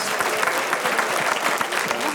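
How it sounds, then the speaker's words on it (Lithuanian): A studio audience claps steadily and fairly close for a couple of seconds, a dense, even patter of hands with no break. "Publiką palaikom Kristoforo plojimais"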